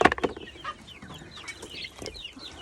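A rooster clucks and squawks nearby in short, uneven bursts, with softer hen-like calls trailing off in the background.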